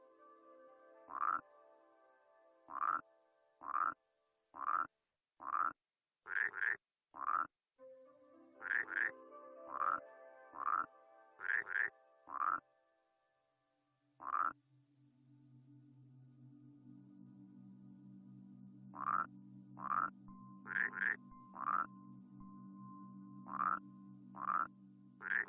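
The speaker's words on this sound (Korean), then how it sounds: "이 개구리가" Repeated frog croaks from the puzzle game Rusty Lake Paradise, loud and close, come in rhythmic bursts of several calls, pause over a low droning tone, then resume in another rhythmic series.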